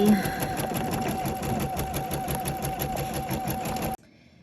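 An embroidery machine stitches black thread over a felt bat appliqué for a Halloween quilt block, a steady rapid mechanical whirring rattle running alone for about four seconds before it abruptly stops.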